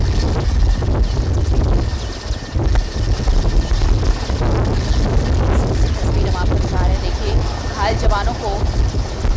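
A helicopter carries away wounded soldiers after a Naxal encounter near Chakradharpur, its steady loud rotor and engine roar continuing throughout, with voices talking over it.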